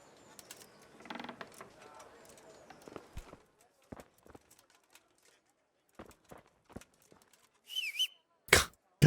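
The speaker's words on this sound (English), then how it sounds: "The number of times I'm going to whistle instead of crouching." A character whistles in Kingdom Come: Deliverance, a sharp rising-and-falling tone near the end, right after a string of soft footsteps and mechanical game clicks.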